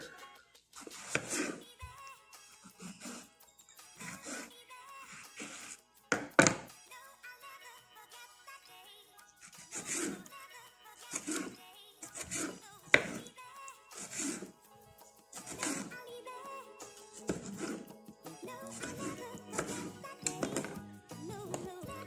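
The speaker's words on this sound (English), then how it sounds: "go ahead and start on the other tomato." A knife dices tomato on a cutting board in quick bursts of soft taps and chops, pausing between runs, close and fairly quiet.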